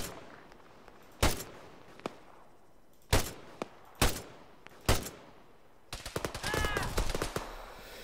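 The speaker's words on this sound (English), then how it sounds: "I'm gonna take him out now, I just wanna get a better shot." Gunfire in the military shooter Arma 3: several sharp, loud single shots spaced a second or so apart, followed by a dense burst of rapid automatic fire with ringing echoes near the end.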